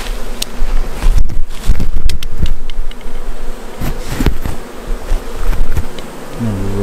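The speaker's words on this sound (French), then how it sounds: "là il y a pas mal d'abeilles qui sont là maintenant" Honeybees swarm around a tree trunk during a bee rescue, producing a dense, close, continuous buzzing with individual bees whizzing past. No one speaks.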